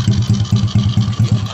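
A motorcycle engine idles close by with a steady low rumble pulsing in even, rapid beats, loud and alone with no talking.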